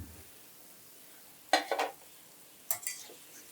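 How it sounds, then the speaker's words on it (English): Shankarpali frying on a low to medium flame, a faint, quiet background with two brief bursts of stirring and scraping in the pan, a soft sizzle under the clatter. "Frying has to be done on low to medium flame and we need to keep on stirring frequently"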